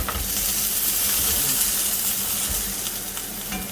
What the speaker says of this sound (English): this frying pan is not really cooking them very evenly